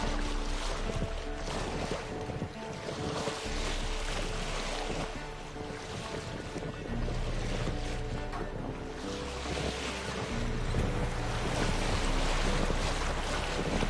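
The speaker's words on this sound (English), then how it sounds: "Sail's fluttering." Wind-driven sail on a boat at sea in The Witcher 3, a steady broadband rush of wind and water under a continuous fluttering flap, loud and close throughout with no talk.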